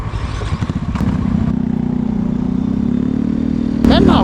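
Motorcycle engine running close by, a loud steady idle with a brief throttle blip, while people talk over it.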